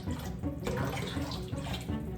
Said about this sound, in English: The next thing I'm going to do is add a cup of my apple cider vinegar